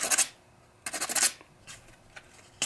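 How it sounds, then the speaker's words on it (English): Someone sanding a charred wooden handle on a vintage Proto ball peen hammer by hand with 150 grit sandpaper, giving a few short, raspy bursts of rubbing with pauses between them. "So this is that 150 sandpaper, 150 grit. And I'm just gonna clean up"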